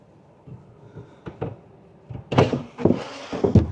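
A drawer slides out from beneath the bed of a camper van, with soft rattling bumps building into louder scraping thuds as it is pulled and a support is extended nearby.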